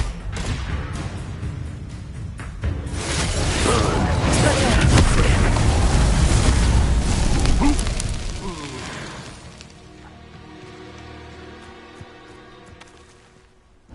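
A Confringo fire spell erupts in Hogwarts Legacy, a loud, sustained roaring blast with crackling bursts that swells for several seconds before fading into a quieter rumbling tail.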